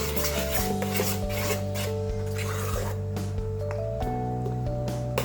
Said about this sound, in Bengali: এখন ভালোভাবে মিক্স করে নেব। এই তো আমার ঝাল চাপটি বানানোর ব্যাটার রেডি।